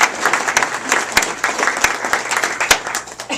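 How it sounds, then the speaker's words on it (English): Warm applause from an audience at a company executive team gathering, many hands clapping at close range in a dense, continuous patter with a few sharper claps standing out. "round of applause."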